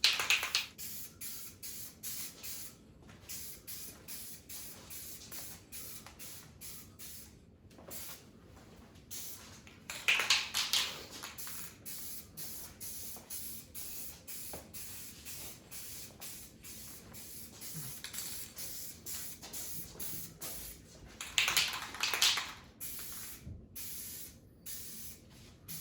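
Aerosol paint sprayed onto a sticky GM steering wheel in light coats: a series of short hissing bursts with brief pauses between them, close up, and two louder, longer sprays partway through, with no talking.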